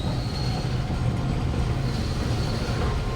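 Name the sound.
freight train passing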